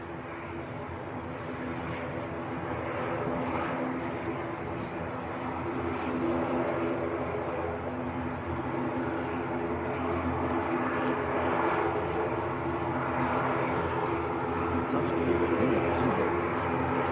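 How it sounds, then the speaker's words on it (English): A Loganair airliner taxis at Manchester Airport, its engines a steady droning hum that swells gradually over the stretch, heard from a distance outdoors. "We look to have a Loganair coming down our favourite taxiway."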